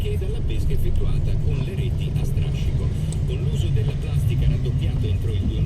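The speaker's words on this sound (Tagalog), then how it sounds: "Ang daming sasakyan." Busy street traffic in Italy on a hot Sunday: a continuous low rumble of cars passing close by, with engine drone and tire noise overlapping and people talking nearby.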